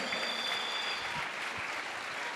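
A church congregation claps in a brief, steady burst of applause offered to Christ, the dense clapping moderately loud and continuous, with a faint voice underneath.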